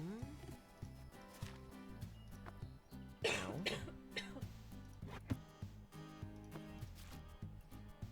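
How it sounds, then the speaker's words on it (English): Someone coughing close into a microphone, a short burst of rough coughs near the middle, with faint background music and other sounds around it. "I was just gonna apologize to our viewers for coughing into the mic"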